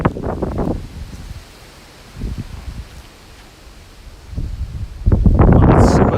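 Gusty storm wind from the south in Tokyo, with a typhoon season setting, buffets the microphone in broad rushing bursts that ease in the middle and swell loudest near the end.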